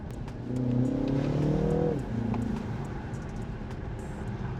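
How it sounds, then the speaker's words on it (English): Engine of a BMW fitted with an M-Lite style performance upgrade, rising under load then dropping with quick paddle upshifts and exhaust burbles, loud and close with no talk over it. "I'm hitting the paddle now. Getting some burbles. Upshifting now."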